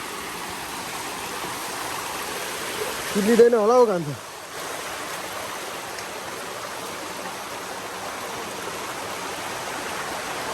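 Village stream in Nepal running over rocks, a steady broadband rush throughout, briefly interrupted by a voice and a short louder splash near the middle.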